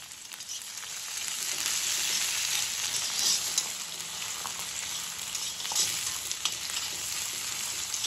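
Tomatoes frying in a pan, a steady close sizzle and crackle with small spits and occasional stirring scrapes, no voices.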